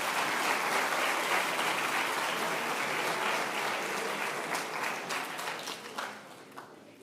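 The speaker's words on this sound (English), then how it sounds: "Let's give the AB a round of applause." A high school awards-ceremony crowd gives a full, dense round of applause that holds steady, then thins into scattered individual claps and fades out toward the end.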